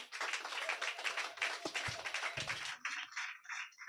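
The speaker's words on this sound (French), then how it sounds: "j'aimerais vraiment, sous vos applaudissements, accueillir le pasteur Nabier également" Congregation applause in a church welcoming a pastor, a fairly faint, uneven patter of clapping with a few sharper individual claps, thinning out toward the end.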